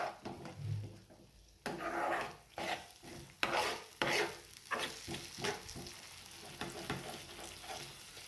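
Egg bhurji being stirred and pressed in a frying pan, a steady sizzle under repeated scraping strokes of a spatula against the pan, close and fairly quiet with no talking.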